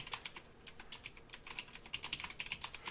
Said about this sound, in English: we're going to type in a password